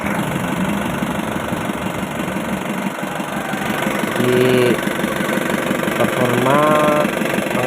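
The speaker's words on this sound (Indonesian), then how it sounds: "Nah, coba hidupkan mesinnya" An Isuzu Elf turbo diesel truck engine idles nearby with a steady low chugging rumble, a constant high whine above it, and brief voices speaking over it.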